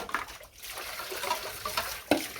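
Water runs and splashes during vegetable washing, a steady trickling stream with a few sharper splashes, close and moderately loud, with no talking.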